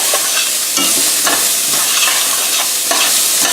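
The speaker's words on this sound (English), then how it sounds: "you got your onions down in the bottom of the pan, and if you get the skillet hot enough, you'll see that they've already started to kind of turn brown" Onions sizzle and brown in a hot skillet, frying steadily with occasional stirring scrapes, close and fairly loud with no talk, while being cooked down as the base for a white bean chicken chili.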